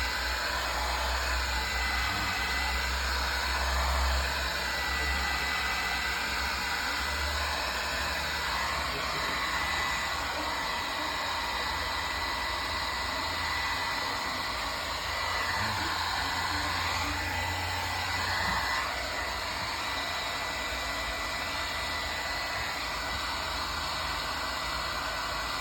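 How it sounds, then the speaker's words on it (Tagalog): Heat blower or hot-air gun running steadily as a vinyl sticker is set onto a surface, a loud continuous airy roar with a low hum throughout and no talking. "Ito naman tayo sa blower natin para didikit talaga guys."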